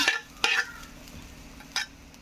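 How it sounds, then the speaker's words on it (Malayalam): Grated coconut roasting in a pan, a low dry sizzle broken by three distinct scraping stir strokes, close and otherwise fairly quiet. "അതിനായിട്ട് നമുക്ക് തേങ്ങയൊന്ന് വറുത്തെടുക്കണം ഒരു ചട്ടിയിലേക്ക് തേങ്ങാപ്പീര ഇട്ട് കൊടുക്കുക"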